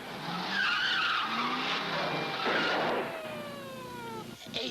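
Car tires squeal in a long, loud skid during a chase in the 1967 film Wild Rebels, the screech sweeping and wavering for several seconds before fading into a lower rumble.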